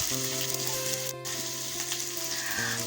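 Whole spices tempering in hot oil for a chicken curry cooked over a clay stove, a steady bright sizzle throughout with a brief sharp crackle midway and a low background hum.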